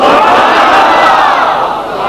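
A large crowd chants a religious slogan in unison at an Urs celebration, loud and close, a dense wall of massed voices carrying through the whole moment.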